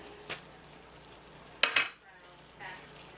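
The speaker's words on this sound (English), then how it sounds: "Throw our onions in. Get them all mixed in there nicely so they absorb some of that greatness." Onions thrown into a pan with sausages for bangers and mash with onion gravy, giving a sudden burst of sizzle and clatter mid-clip. Brief stirring scrapes follow, then a quieter sizzle.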